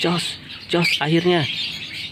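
Lovebirds chirp and squawk close by in short harsh calls, while someone speaks a couple of words over them.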